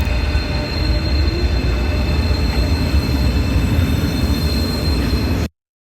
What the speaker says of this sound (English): Over in the distance, we can see an AVE high-speed train operated by Spanish national operator Renfe